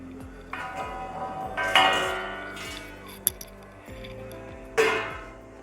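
A steel plate is set over a pan of steaming funke for Khandeshi kadi funke, giving a couple of metallic clinks and a ringing clatter against low kitchen background noise.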